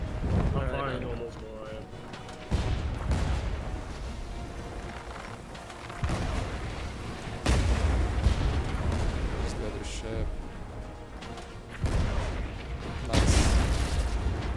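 Ship cannons firing in the pirate game Blazing Sails, heavy booming blasts recurring every few seconds over a constant roar of battle noise, with voices talking throughout.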